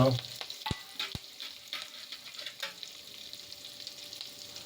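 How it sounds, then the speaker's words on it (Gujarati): Mustard seeds and cumin crackle and sizzle in hot oil, with a few sharp pops early on settling into a steady, close frying hiss. "આ રાય અને જીરું આપણું તતળી ગયું છે"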